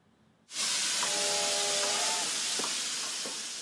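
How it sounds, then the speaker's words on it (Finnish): A steam locomotive running from Sortavala toward the Ruskeala mining park releases a sudden loud, steady blast of hissing steam that fades slightly, with faint metallic clanks underneath. "Höyryveturi vie venäläisturisteja Sortavalasta kohti Ruskealan kaivospuistoa."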